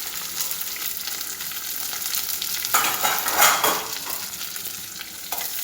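Cashews, asafoetida and curry leaves fry in hot oil for coconut rice, with a close, steady sizzle and stirring that swells into a louder crackling burst midway before settling.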